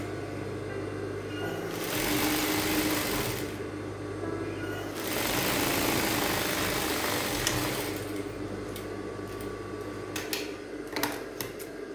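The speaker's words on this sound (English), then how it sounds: "So I'm going to sew it down and do the same thing to the second side." A sewing machine stitches a Bardot neckline in steady runs of fast rhythmic whirring, two main bursts separated by quieter pauses, ending in a few sharp clicks; close and moderately loud with no talking.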